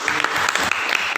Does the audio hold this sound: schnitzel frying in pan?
no